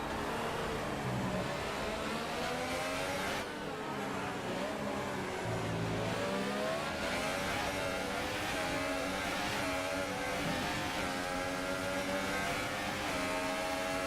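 Formula One race cars from the F1 2018 racing game at the British Grand Prix, one running in another's slipstream, engines whining and shifting in pitch continuously and loudly throughout, with no talk.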